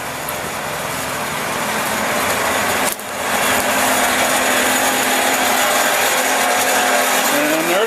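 A small hydro generator driven by a Pelton wheel runs loud and continuous indoors, a dense steady whir that dips once briefly and then carries on.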